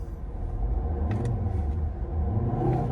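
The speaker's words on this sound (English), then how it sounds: "hopefully you can hear the distinctive sound of a 5-cylinder diesel" The 2.0-litre five-cylinder diesel of a 2011 Volvo V70 D3 R-Design manual estate revs briefly, a low, muffled rumble recorded faintly from nearby without any voices over it.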